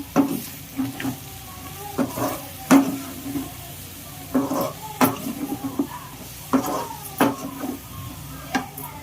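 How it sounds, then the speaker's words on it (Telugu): A spoon stirs prawn curry with coriander in a pan, giving repeated scraping strokes in an irregular rhythm over a soft sizzle, close and fairly loud with no talking. "ఒక్క స్పూన్ కొంచెం కొత్తిమీర వేసుకొని బాగా కలిపేస్తున్నాం"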